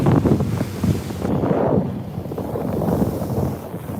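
Strong wind buffets the microphone out on the open sea off Maui on an early-morning boat trip toward Molokini, a loud, steady roar with gusty surges and the wash of water beneath, no voices.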